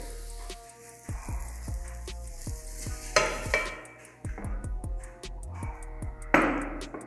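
An egg pancake cooks in a pan on the stove with a soft, low sizzle, broken by regular scraping and tapping strokes of a utensil against the pan, plus two brief louder bursts of frying.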